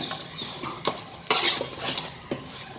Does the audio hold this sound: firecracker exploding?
no